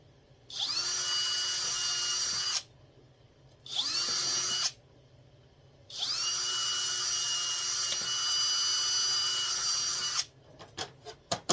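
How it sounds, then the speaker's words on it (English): A power drill whines in three bursts while drilling holes in plastic for a fusebox relay panel, short then longer, spinning up to a steady high pitch, followed by a few clicks and taps. "They don't take much to drill them because it's plastic."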